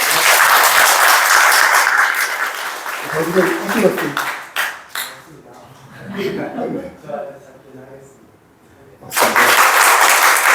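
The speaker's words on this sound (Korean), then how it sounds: "박수로 환영하겠습니다." A church congregation at Sunday service claps to welcome a couple, a loud burst of applause that gives way to brief talking and a chuckle, then another swell of clapping at the end.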